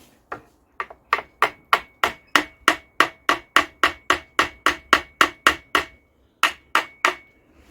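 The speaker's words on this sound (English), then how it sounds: "just a case now of tapping this with a hammer" A hammer taps the metal of a smoking Lister diesel engine in a steady run of about twenty sharp, ringing strikes, evenly spaced, with a short pause near the end.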